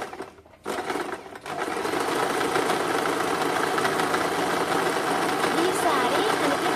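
An ordinary domestic sewing machine stitching a second pass of cutwork fabric: a steady, close mechanical whir and rapid needle chatter that starts up after a short pause and then runs on without a break.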